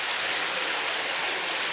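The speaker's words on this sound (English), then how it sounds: "what you see here is a natural groundwater, and this water is coming from the rock" Natural groundwater seeps and flows out of the rock deep inside a South African gold mine, a steady, hissing rush of water that fills the space evenly with no pauses and no voices.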